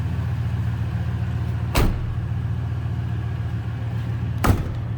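A 2000 Ford F-150 Harley-Davidson Edition with the 5.4 liter Triton V8 idles steadily, its low throaty exhaust rumble heard close up, with two brief sharp knocks or thumps during the run.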